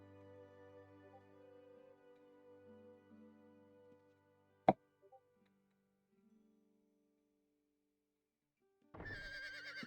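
A horse neighs in the video game Ultima Online, a long whinny set against game music, followed by a sharp click, near silence, and then a louder burst of game sound.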